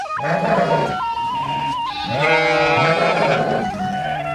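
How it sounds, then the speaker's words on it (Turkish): Sheep and lambs bleat in a flock on a highland pasture in Malatya, including a black ewe, with several overlapping wavering bleats close by, some long and quavering, one after another. "Kara koyun da meledi meledi en sonunda yavrusunu buldu."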